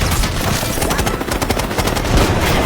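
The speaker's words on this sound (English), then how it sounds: "We're taking fire!" Rapid bursts of automatic gunfire in Call of Duty: Black Ops 6, loud and close, crackling in repeated volleys with booming low-end impacts throughout.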